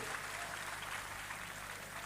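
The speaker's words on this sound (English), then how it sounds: "We have to give them a round of applause" Crowd applause at a graduation parade for Ghana Immigration Service cadets, a faint, far-off and even wash of clapping across the open parade ground, steady with no distinct voices.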